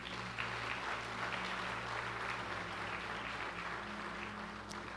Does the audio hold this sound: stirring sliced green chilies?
no